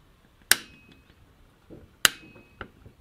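Two sharp metallic clicks about a second and a half apart, each followed by a softer tap, as a steering pump bolt is freed on a Volvo 850 during timing belt work; close and fairly quiet.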